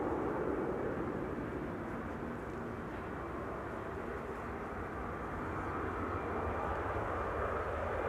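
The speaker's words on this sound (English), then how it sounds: "I'm hearing, and you are probably too, the sounds of GE90s being started." GE90 jet engines on an airliner at Amsterdam Schiphol Airport, a faint, steady broadband roar heard from a distance throughout.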